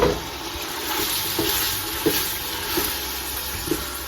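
Calamari with crushed red pepper and anchovies sautéing in a pan, stirred several times, a steady close sizzle with soft scraping strokes recurring about every second or so.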